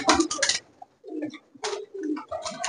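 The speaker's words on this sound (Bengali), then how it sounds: "মুর্শিদাবাদী যে পায়রাগুলো আছে, ওই যে ফ্যাসা টাইপের" Murshidabadi pigeons coo in throaty bursts inside a large Giribaj pigeon loft in Kolkata, several close rolling calls separated by short quiet gaps, with no talking.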